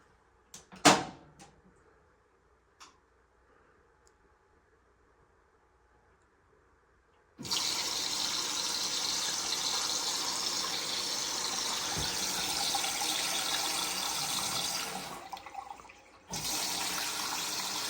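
A Bosch washing machine with a filling fault takes in water: a click and faint knocks, then a loud, steady rush of inflowing water that stops briefly and resumes, with no talking.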